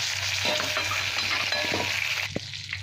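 Prawns frying in hot oil left over from frying pointed gourd and potato, seasoned with salt and turmeric, give a steady close sizzle with a few scraping stirs and a sharp clink near the end.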